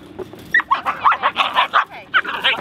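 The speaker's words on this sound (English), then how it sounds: "look at the pretty little dog" Dog barking in quick bursts mixed with whimpers and yips, close and loud, during a tense scene with other dogs and people around in Texas.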